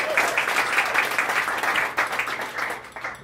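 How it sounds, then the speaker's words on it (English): Audience applause at a book Q&A event in Raleigh, North Carolina: a dense, steady crowd clapping that fills the room and begins tapering off toward the end. "I think I stepped on your applause"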